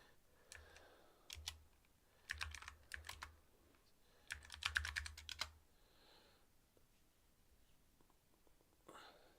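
Someone types on a gaming keyboard, quick clustered bursts of crisp close key clicks separated by pauses, quiet and recorded up close.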